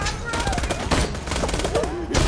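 Gunfire in the video game Borderlands, rapid shots crackling in bursts over a dense mix of game effects, with people talking across the whole stretch.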